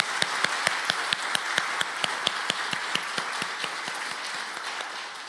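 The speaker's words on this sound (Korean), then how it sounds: "우리 한 번 더 박수" A church congregation applauds at an afternoon worship service, steady claps with sharp individual hand strikes standing out, fairly close and moderately loud, then slowly thinning out toward the end.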